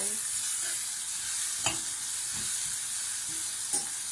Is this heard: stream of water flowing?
no